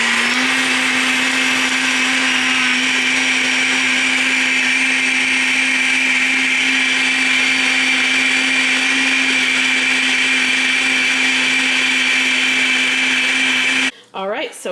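A blender holding water and magnesium runs loud and close as one continuous steady whir for about fourteen seconds, then stops abruptly.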